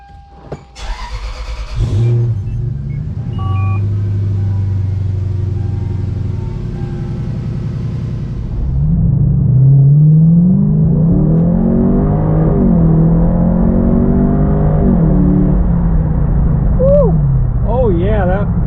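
A car engine starts and idles, then accelerates hard after a differential swap, its pitch climbing and dropping through several gear shifts as it drives off.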